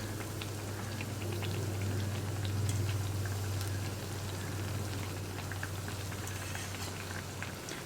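Wheat flour and banana snack frying in hot oil, a steady dense bubbling and crackling sizzle with a low hum underneath, continuous and close.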